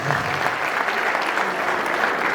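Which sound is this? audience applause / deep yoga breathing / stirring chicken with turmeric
audience applause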